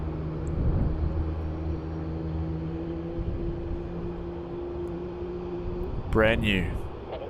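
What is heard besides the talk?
Airbus A220 airliner landing on runway 16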